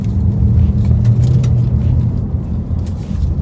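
A 2019 Ford Mustang's engine fires up and settles into a loud, deep, steady rumble close by, with slight throttle swells over a few seconds.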